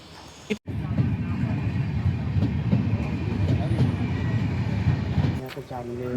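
A train near Mangaon in Konkan, Maharashtra, rumbling along with a steady low roar and faint clatter, continuous and fairly loud, cutting off near the end.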